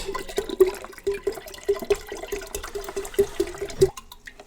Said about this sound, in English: I'm going to use an entire liter of watermelon juice.